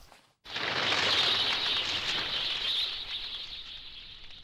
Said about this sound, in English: Just as she vanishes, doves are shown flying overhead.